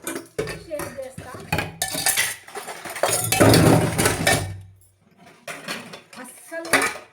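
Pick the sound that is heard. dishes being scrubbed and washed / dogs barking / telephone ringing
dishes being scrubbed and washed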